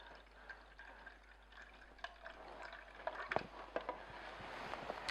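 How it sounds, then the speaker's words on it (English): Quiet juice trickles and drips irregularly from an Omega VRT 352F juicer's flap, with small splashes growing a little louder as it fills. "We'll open up the juice flap here. Let it pour in."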